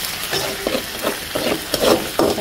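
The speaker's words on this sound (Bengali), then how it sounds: "মশলাটা কষাই নিচ্ছি আস্তে আস্তে" A thick spice paste with onions sizzling in a pan for a spicy tilapia fish curry, with a spoon stirring in short, repeated strokes that scrape and hiss close by.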